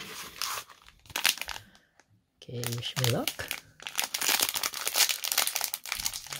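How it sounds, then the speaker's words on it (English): A cellophane-wrapped pack of Chronicles trading cards crinkles and tears as it is ripped open by hand, a close, busy run of crackling rustles with a person speaking briefly partway through. "let's open up this cello pack."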